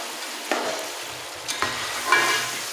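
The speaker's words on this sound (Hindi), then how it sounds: "अब इसको अच्छी तरह मिक्स कर लें" Spoon stirring a potato and pea rice mixture with lemon in a pot, a few distinct scraping strokes at a steady pace with a faint sizzle beneath, close and fairly quiet, no talking.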